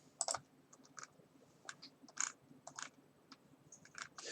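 Quiet, close typing on a computer keyboard while building a website, irregular clusters of soft key clicks with brief pauses between bursts and no voice.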